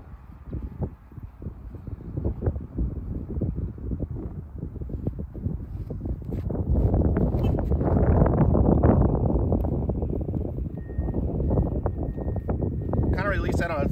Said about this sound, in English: We are dealing with the right to left crosswind